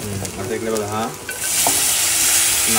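Tempering for a Konkan crab curry hits a hot pan at home on a rainy day. After a short quieter start, a loud, steady sizzle swells up and holds close by.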